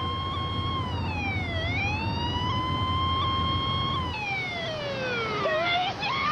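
A loud wailing ambulance siren sweeps up and down in pitch, then shifts to a faster falling-and-rising wail over steady traffic rumble, close by, as the ambulance pulls away slowly.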